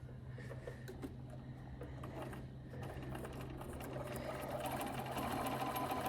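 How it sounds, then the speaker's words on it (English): A sewing machine top stitches around a fabric bunny bag, running as a steady, continuous mechanical hum and whir throughout, close and moderately quiet, with no voices. "And just top stitch all the way around."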